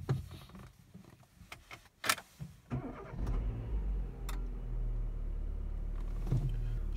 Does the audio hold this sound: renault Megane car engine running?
yes